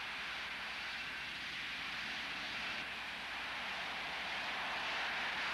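Harrier AV-8 jump jet engine throttled back with the nozzles swung into reverse thrust, a steady broad roaring hiss of jet noise, faint and distant, holding even throughout.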